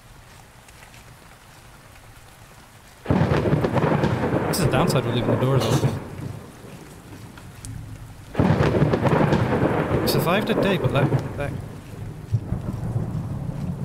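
Heavy thunder rumbles in two long, loud rolls over steady rain in the video game Warlord Britannia, with someone talking quietly before and between them.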